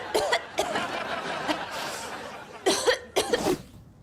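A woman coughs in several harsh bursts, irregularly spaced with a pair of louder coughs near the end, heard up close and alone.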